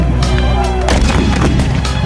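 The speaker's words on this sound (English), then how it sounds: "readies his secret weapon, two 12-pound mountain howitzer cannons" Two 12-pound mountain howitzer cannons fire in battle against the Apache. Heavy booms and crashing blasts come one after another, with a voice talking over them.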